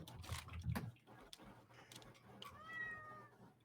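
A cat meows several times, clear and fairly close, with rising tonal cries near the end over a faint background rustle.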